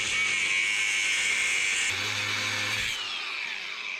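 A power tool shaves a thin sliver off a metal hinge on a homemade dump bed for a mini dually work truck, a steady close, bright whine that shifts pitch partway through, then eases off.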